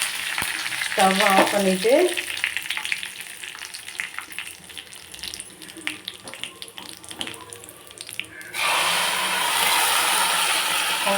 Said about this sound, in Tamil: மிளகும் கருவேப்பிலையும் போட்டுக்கலாம். நல்லா பொரிஞ்சோன்னா